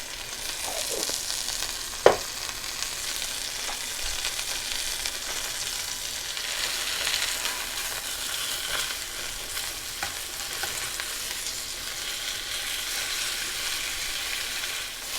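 Floured chicken cutlets fry in a skillet with a continuous close sizzle and scattered pops, plus a sharp clink near the start and occasional soft scraping.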